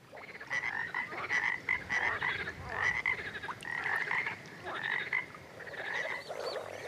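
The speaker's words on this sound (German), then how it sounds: "Und so ein Froschkonzert? Das hören wir uns natürlich gleich mal an." A chorus of male frogs croaks in repeated pulsing bursts, many voices overlapping in a loud, rhythmic concert with no talk.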